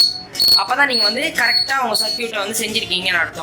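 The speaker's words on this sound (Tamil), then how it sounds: "இப்போ வந்து நீங்கள் பஸரோட பிளாக் ஒயரோட கனெக்ட் பண்ணும்போது உங்களுக்கு வந்து சவுண்ட் வரும்." A homemade door alarm's wired buzzer gives short, shrill electronic beeps in bursts, partly masked by someone talking steadily over them.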